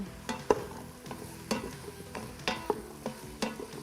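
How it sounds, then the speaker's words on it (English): Cut potatoes being stirred in an Instant Pot, with a spoon scraping and knocking against the metal insert in a steady series of close, distinct strokes at roughly half-second intervals. "So once our potatoes are in, I'm just going to stir it around a little bit."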